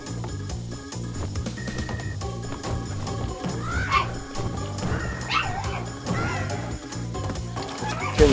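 A pet dog barks and yips repeatedly at close range, its whimpering barks mixed over a busy bed of Crash Bandicoot N. Sane Trilogy game music and sound effects.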